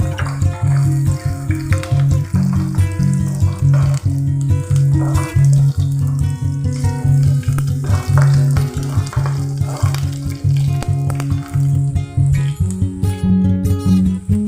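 Garlic cloves split in half fry in hot oil in a pan for a ginger-tamarind curry. A continuous, close sizzle is broken by rhythmic stirring scrapes throughout.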